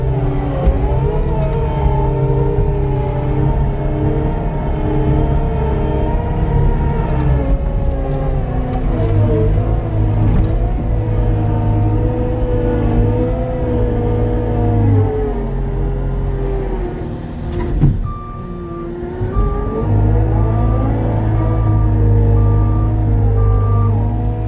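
A 2019 Cat 299D2 XPS compact track loader drives in high gear through soft ground, its diesel engine roaring loud and steady with shifting pitch as it plows ahead, and a repeating backup beep appears near the end.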